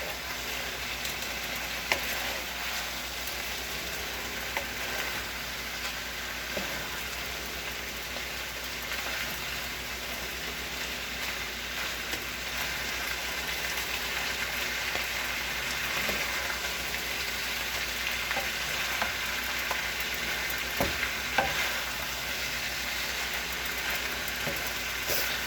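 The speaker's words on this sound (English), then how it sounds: "Stir it very gently." Food is gently stirred in a pan: a long, steady frying hiss and sizzle with occasional faint clicks of the utensil against the pan, even and unbroken throughout.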